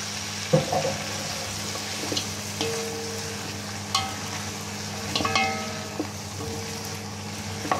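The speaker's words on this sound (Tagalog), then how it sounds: "So, ilalagay ko na guys yung ating chicken." Chicken feet go into a pan for caldereta, with a steady sizzle and frying hiss under scattered clicks and knocks of stirring and utensils.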